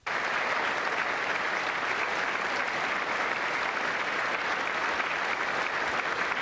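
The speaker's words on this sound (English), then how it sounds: "Why are the Democrats applauding?" A large audience claps steadily at a State of the Union address, dense and loud applause filling the whole stretch without letup.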